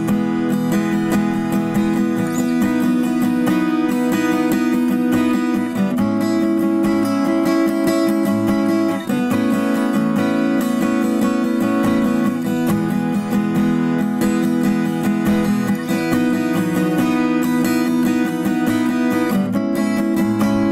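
Bright, full strummed chords on a Sigma OMM ST acoustic guitar with satin finish, played steadily and loud up close with regular chord changes and no talking.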